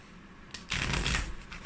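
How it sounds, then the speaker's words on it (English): A thick deck of playing cards is riffle shuffled in halves, a soft quiet lead-in giving way to a loud, close, fluttering burst of cards cascading together that lasts about a second before tapering off. "But I also riffle shuffle."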